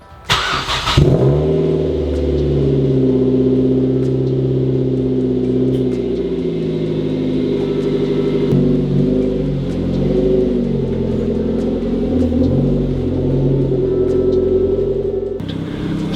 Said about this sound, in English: Cold start, hasn't been started in like 2 weeks.